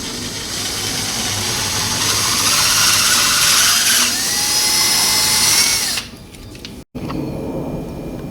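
A power drill bores a hole with a 15/64 bit into the handlebars of a Suzuki DR 650, whining loud and steady for about six seconds before spinning down, followed by a brief quieter tool buzz.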